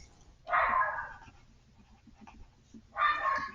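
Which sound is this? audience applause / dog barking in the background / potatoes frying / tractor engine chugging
dog barking in the background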